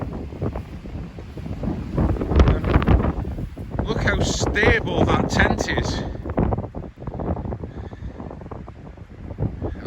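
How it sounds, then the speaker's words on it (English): Heavy gale-force wind buffets and roars against the microphone in gusts during a storm test of an MSR Access 1 tent, with someone speaking over the constant blustery noise. "It's very, very windy"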